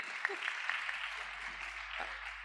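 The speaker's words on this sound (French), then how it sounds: "On peut encore l'applaudir, s'il vous plaît." A short burst of soft applause from a conference audience for a panelist, a steady patter of many hands clapping at a moderate distance.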